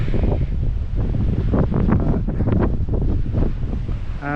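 Strong wind at a coastal lookout buffets the microphone in loud, gusty roars, continuous throughout with rumbling bursts.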